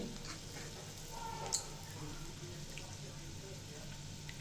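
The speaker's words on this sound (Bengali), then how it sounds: "পেঁয়াজ, রসুন, মরিচটা এভাবে বেরেস্তার কালার করে ভেজে" Steady crackling sizzle of chopped onion, garlic and dried chili frying in hot oil, close by, with a faint low hum underneath.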